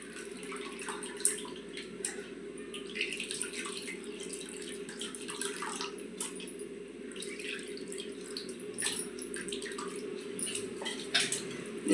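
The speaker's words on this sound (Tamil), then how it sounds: "அந்த புளியை வந்து இதில் தூக்கி ஊற்றுறோம்" Tamarind water being poured into a pot for pepper rasam, a soft steady trickle and splash of liquid with small drips, fairly quiet and close, with no talking.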